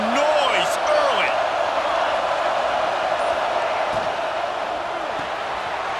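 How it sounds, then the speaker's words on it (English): A football stadium crowd at a Penn State versus Florida game roars in a sustained, loud, distant wash of cheering, with whistles and a commentator talking over it early on. "This crowd bringing the energy and noise early."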